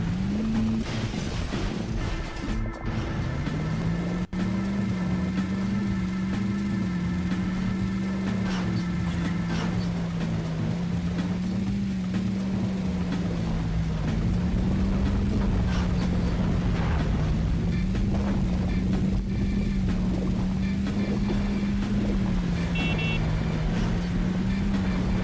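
Steady droning car engine from the racing video game Beetle Adventure Racing, holding a wavering pitch throughout with light shifts, as if the car is held near constant speed, under faint background noise.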